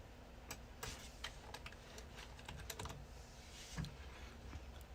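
Computer keyboard typing, quick irregular clicks close by at low volume, with a few keys struck harder than the rest.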